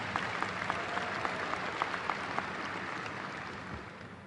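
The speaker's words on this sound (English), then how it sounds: "You can clap for that." Audience at a university convocation breaking into applause, a broad wash of many hands clapping with a few sharper claps standing out, slowly thinning toward the end.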